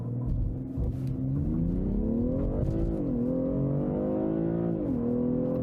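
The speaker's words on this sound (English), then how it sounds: "then we'll accelerate it out just a little bit for you, because that's good to see here with the all-wheel drive" A BMW M340i, the M Performance 3-Series with all-wheel drive, accelerates hard, its engine pitch climbing steadily through the gears with brief dips at each shift, loud and continuous from inside the car with no talk.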